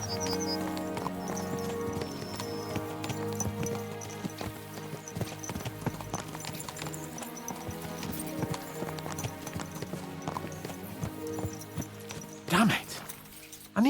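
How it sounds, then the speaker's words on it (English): Horses galloping in the video game Kingdom Come: Deliverance 2, a steady rhythmic clip-clop of hooves running throughout under orchestral music, with occasional speech and a brief louder burst near the end. "Let's really spur these horses on, eh?"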